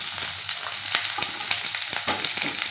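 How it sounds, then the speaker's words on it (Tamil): Finely chopped onion frying with a bay leaf and cinnamon stick in a pan just used for frying paneer, a constant close sizzle broken by quick scraping stirs. "இந்த வெங்காயம் வந்து நல்லா கோல்டன் ப்ரௌன் வந்ததுக்கும் வதக்கிக்கிறேன்"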